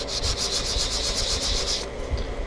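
Rapid rhythmic back-and-forth rasping of a sanding block over sanding sealer on a model rocket, close and steady, stopping near the end.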